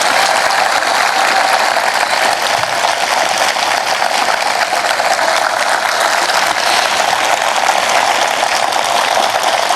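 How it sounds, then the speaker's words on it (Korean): A large crowd at an outdoor memorial ceremony for a former South Korean president claps continuously, a dense and loud sustained wash of applause with no speech over it. "여러분 우레와 같은 박수 보내주십시오."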